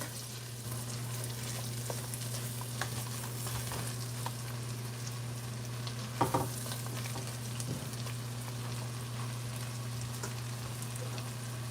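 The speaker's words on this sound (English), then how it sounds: "I'm just gonna saute this for a few more seconds." Chunks of lobster tail meat sauté in a hot pan for a Jamaican curry, giving a steady, close frying sizzle with a constant low hum and a few brief clatters of stirring.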